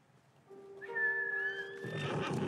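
A horse in the video game Ghost of Tsushima lets out a single clear, rising whinny that grows louder, ending in a rougher snort-like burst.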